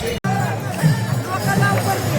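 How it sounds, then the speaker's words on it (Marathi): A dense crowd of pilgrims at the Pandharpur wari fills the air with close, continuous babble of many overlapping voices, steady and lively throughout with a brief dropout near the start. "बघा काय गर्दी आहे"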